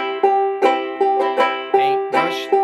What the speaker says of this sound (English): you put them together and you get yourself a nice bluegrass strum